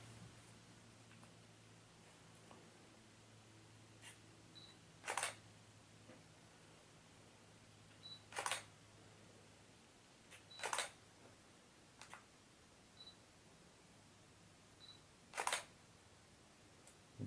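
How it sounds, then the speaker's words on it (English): A Canon EOS Rebel T6 DSLR with an 18-55mm lens fires its shutter in a quiet room, giving about five sharp mechanical clicks spaced a few seconds apart and a few fainter ticks between them over a low background hum. "Let me take another picture."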